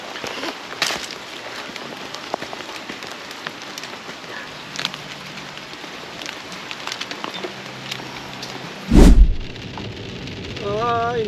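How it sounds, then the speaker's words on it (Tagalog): Steady rain patters across a surface for the whole stretch, with a brief loud bump near the end and faint voices underneath. "Inabot pa tayo ng"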